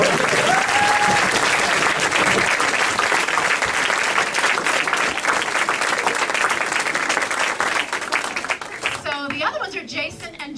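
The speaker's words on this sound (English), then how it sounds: "So I think Steve and Laura, you need a round of applause." A crowd at a fifth-grade graduation gives loud, dense applause for two honorees, sustained for several seconds before thinning out, with voices and a few whoops near the end.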